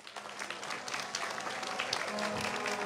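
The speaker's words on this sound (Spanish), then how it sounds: "fuertes los aplausos" Audience applause at an inauguration of a multipurpose venue on the Bolivian border, a sustained wash of many hands clapping that builds slightly and carries on steadily, heard from a moderate distance.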